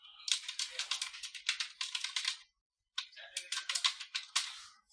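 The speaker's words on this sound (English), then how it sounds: "and I'll type some text" Rapid clicking of keys on a computer keyboard in two quick bursts with a short pause between them, close and fairly soft, with no talking.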